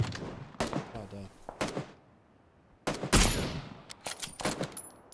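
Several sharp, loud sniper rifle shots crack in the video game PUBG, spaced a second or so apart with one big echoing blast mid-clip, while a voice speaks briefly between them.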